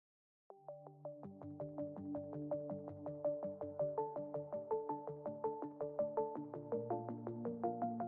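A phone rings with an incoming call during a live talk show, a repeating melodic ringtone with evenly spaced electronic notes that starts after a brief silence and keeps cycling steadily at moderate volume, with no voices over it.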